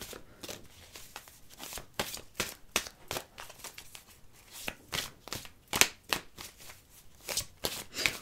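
Tarot cards shuffled and drawn by hand, a fast series of crisp riffling flicks and snaps in uneven bursts, close and fairly quiet, with no talking.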